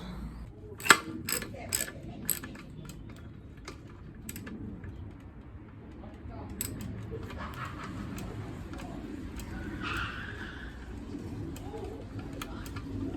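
Front wheel of a Mountain Buggy Urban Duo double pushchair being tightened to fix a wobble: a few sharp clicks early on, then soft ratcheting mechanical clatter, close and fairly quiet.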